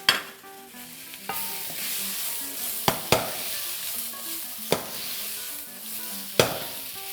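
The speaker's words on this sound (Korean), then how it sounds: "이렇게 하면서 조금씩 여유 있게 볶고 있다가" Onion, zucchini, napa cabbage, bamboo shoots and mushrooms stir-fried in a wok for old-style jjamppong, a steady oily sizzle broken by sharp scraping clanks of the spatula every second or two, with no talking.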